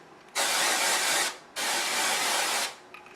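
Aerosol root cover-up hair spray hisses out in two long, even bursts of about a second each, close and loud, with a short pause between them and quiet afterward.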